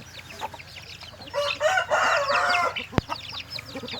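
Chickens clucking and a rooster crowing nearby during morning feeding, with scattered calls and a sharp knock near the end.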